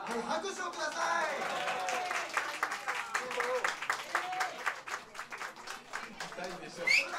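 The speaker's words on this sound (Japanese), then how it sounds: "拍手をください。" An audience at a live comedy event bursts into clapping that thickens into a rapid, uneven patter of hands, while voices and laughter mix in underneath.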